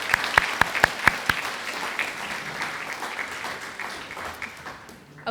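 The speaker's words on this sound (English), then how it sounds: "Let's give our Honors Focus recipients a round of applause." A round of applause at a spring senior breakfast, rising from a few sharp opening claps into steady, dense clapping from a seated crowd that carries on for several seconds, fading slightly toward the end.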